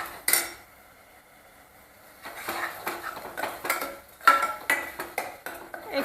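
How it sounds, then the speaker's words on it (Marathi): Onion-tomato masala for Kolhapuri chicken is stirred in a pan with a metal spoon, giving close, irregular scrapes and clinks on the pan after a short quiet start, with no voices. "हा मसाला आहे तो चांगला परतून घेऊया आता"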